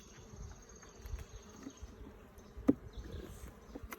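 Soft, low buzzing of many Carniolan honey bees drones around an open hive at close range, with faint scattered thumps and one brief knock midway as a frame is dropped.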